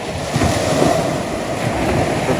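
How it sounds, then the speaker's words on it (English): Waves at high tide roll against and over a sea wall on the North Norfolk coast at Walcott, making a continuous loud wash of surf with heavy wind noise and no talking. "the tide's hitting the walls, rolling back, and then the waves coming back in and sort of rolling over the top of them."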